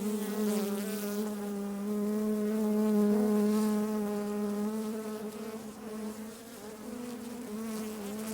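Honeybees swarm around an opened hive during a late-winter inspection, a dense, loud, steady drone close by with a slowly swelling hum.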